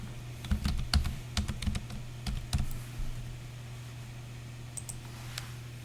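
Typing on a computer keyboard while setting up a Windows Active Directory lab on a laptop: bursts of sharp key clicks in an irregular rhythm for the first three seconds, then a few scattered taps, close and fairly quiet over a steady hum.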